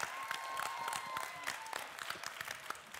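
A big audience bursts into loud, sustained applause for a performer at a televised Latvian song contest, dense clapping filling the hall with a faint sustained tone beneath and no talking.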